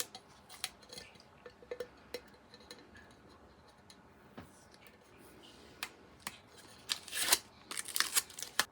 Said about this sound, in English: So I'm just going to peel this sticker off.